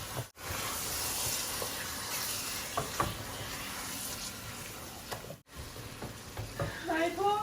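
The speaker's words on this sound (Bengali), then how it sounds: "লাড়াচাড়া করে এখন তো আমি চিকেন দিলাইলাম" Chicken fries in a pan with spices, giving a continuous sizzling hiss broken by stirring scrapes and clacks, with a brief faint voice near the end.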